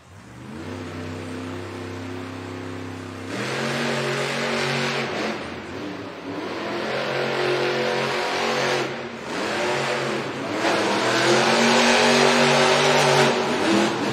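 Gravedigger monster truck engine revving loudly at a stadium event, a sustained roar that climbs in surges and holds high, with crowd noise behind it.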